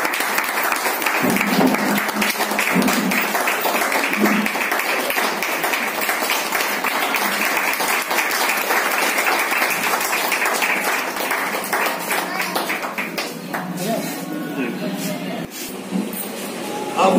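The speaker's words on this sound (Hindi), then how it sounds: "आप सब लोग जो है जोरदार तालियों से इनका स्वागत और अभिनंदन" An audience claps loudly and continuously at an honouring ceremony for a Sahara India worker, a dense sustained wash of applause that eases slightly near the end.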